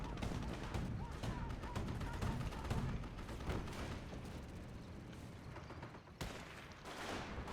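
Anti-tank rifle shots ring out during a Company of Heroes battle, with steady gunfire and distant booms blending into a dense, moderately quiet wash of combat noise.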